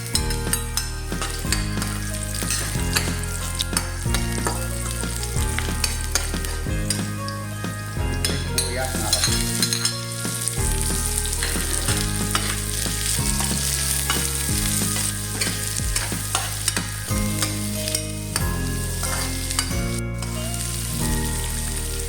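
Garlic fries in a pan with a steady, dense sizzle and crackle, while background music plays throughout.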